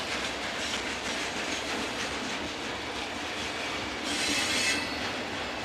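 A BNSF freight train led by six locomotives rolls past, giving a dense, continuous rumble of wheels on rail with clickety-clack and a burst of squealing wheels near the end, loud and close.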